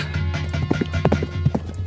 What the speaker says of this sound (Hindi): ये घोड़े की आवाज कहाँ से आ रही है?